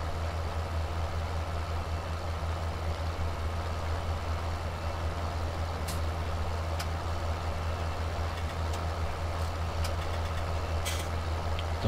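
Tractor engine in Farming Simulator 17 drones at a steady idle-like hum with a deep low rumble for twelve seconds, constant and close, with a few faint clicks and no talk.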